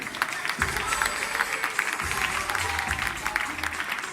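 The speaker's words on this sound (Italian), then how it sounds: "Un grande applauso accolga Andrea Valenti." Crowd applause as a boxer from the Mastini boxing club of Chioggia enters the ring, steady clapping and cheering filling the hall continuously at moderate loudness throughout.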